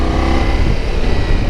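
A Ducati Multistrada V4 S motorcycle being ridden, giving a loud, close, continuous engine roar with a rough pulsing texture and no voices.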